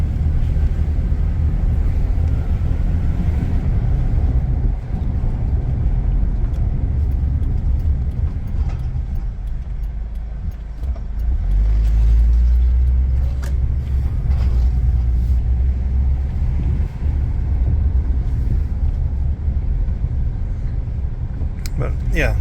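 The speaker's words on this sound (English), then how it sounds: "let you listen to the suspension, the drivetrain as we go over all the bumps and rough terrain" A Honda Element AWD rolls over bumps and rough terrain, with a steady, loud low drivetrain and road rumble. The suspension thumps and knocks now and then, and the drone swells to a heavier rumble near the middle.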